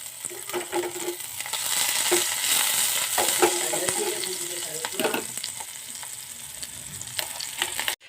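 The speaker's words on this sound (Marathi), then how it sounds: "हा जो आपला मिरचीचा पेस्ट वगैरे आहे तो छान मी इथे टाकून घेतलेला आहे आणि हा छान आता व्यवस्थित शिजून घेऊया" Chilli paste sizzles in a pan of fried onions for a chutney tempering, a steady bright crackle with stirring scrapes and clinks throughout, fairly close, ending abruptly.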